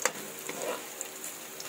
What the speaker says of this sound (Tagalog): Fry muna natin ng konti.